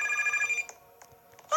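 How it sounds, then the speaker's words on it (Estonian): A telephone rings in the Pizza Factory Tycoon video game, a bright electronic trill that sounds, pauses, then starts again, clear and close with no talk. "Oh, telefon."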